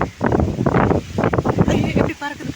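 Sudden gusts of wind sweep across an outdoor spot on a hot evening, buffeting the microphone in rough, uneven bursts while a person talks over the roar.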